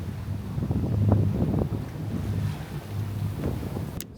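Strong 20-knot wind buffeting a sailboat at sea off the Atlantic, a loud continuous rumbling roar with microphone gusts and water rushing past the hull.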